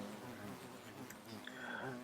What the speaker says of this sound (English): I've also got my bees going on, so Harvestcraft bees, a little bit simpler than forestry bees